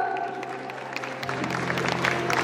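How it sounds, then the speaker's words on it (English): An audience of parents and pupils applauds a child receiving a prize at a school prize distribution ceremony, a sustained crowd clapping that grows denser toward the end over a faint background hum. "Please keep on clapping for the child."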